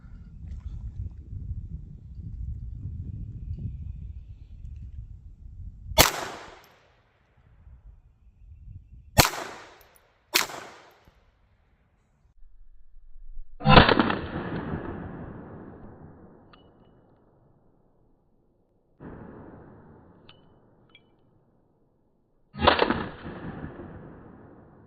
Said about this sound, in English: I really want to shoot that freaking hornet.